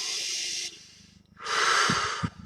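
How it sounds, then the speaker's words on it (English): Two deep breaths: a long hissing exhale, a short pause, then a strong, loud inhale-exhale with soft snorts, close and alone, no talk. "Just get those few minutes of deep breathing in per day."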